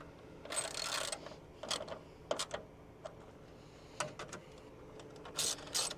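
A ratchet snugging 10mm bolts on a 2012 Ram 3500 during an AC condenser replacement, faint close-up bursts of clicking, short and uneven with pauses between spins.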